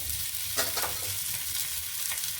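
A sprouted moong dal parota with coriander leaves cooks on a hot pan with a steady, close sizzle and faint crackling as it fries, with no voices.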